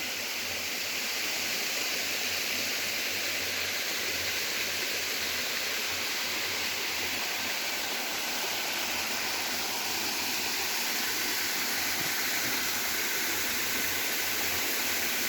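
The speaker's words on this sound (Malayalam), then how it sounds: "ഇതാണ് ആ ഒഴുകുന്ന തോട്" A forest stream flows over rocks, a loud, continuous rushing and gurgling up close that never lets up, with no voices.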